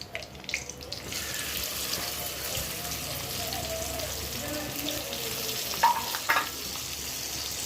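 Chopped ivy gourd sautéing in a hot pan alongside dried red chillies, giving a steady loud sizzle with brief stirring scrapes near the start and end.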